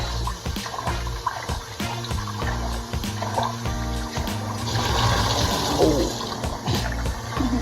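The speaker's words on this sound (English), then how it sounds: "So we're gonna give it a good rinse." Jasmine rice being rinsed in water at home: a steady rush of running water with sloshing and trickling as the grains are swirled, fairly close and continuous, with faint speech in the background.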